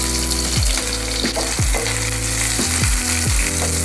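Onions and curry leaves fry in a few spoons of hot oil for a chicken curry, giving a steady loud sizzle throughout, with several sharp utensil knocks and scrapes as the pan is stirred.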